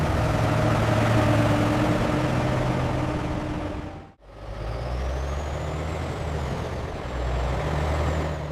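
Large trucks hauling plastic waste, including pure water sachets, to a recycling factory: a heavy engine rumble with hissing air, briefly cutting out midway before rumbling on again.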